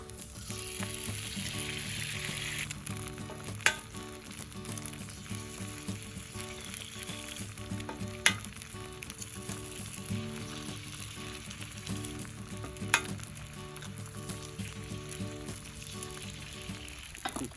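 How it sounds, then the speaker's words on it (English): Eggs and a bagel fry on a flat-top griddle at a campfire cook. A soft, even sizzle continues at low volume under a steady tonal background, with a few sharp clicks and no speech. "I'll move to a cooler spot and start cooking the eggs in the bagel."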